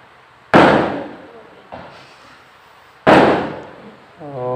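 Firecrackers set off outdoors in the morning: two loud sharp bangs with echoing tails and a fainter pop between them, followed by a brief tonal sound at the end.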